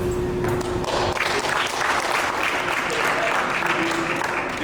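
Audience applause filling a room at a community gathering, a dense, steady wash of clapping that holds evenly from start to finish with crowd noise mixed in.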